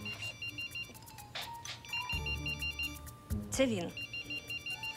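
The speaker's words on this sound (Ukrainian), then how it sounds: "В тебе телефон дзвонить." A mobile phone ringtone repeats in a steady pulsing melody at moderate level, with people talking over and between the rings.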